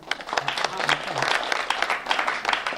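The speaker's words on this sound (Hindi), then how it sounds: "मैं एक बार ताली आप बजा दें।" Audience applause at a Hindi comic poetry gathering, a Hasya Kavi Sammelan, with scattered claps rising over a talking voice and crowd noise, moderately loud throughout.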